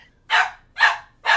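Small dog barking in loud, sharp bursts, three close barks in quick succession, left behind and agitated; no talk over them.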